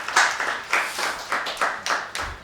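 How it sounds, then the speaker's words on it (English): An audience at a student election debate for a chairperson and speaker in Kampala claps in several bursts of hands, close and moderately loud, with short pauses between the rounds. "You can clap hands for her."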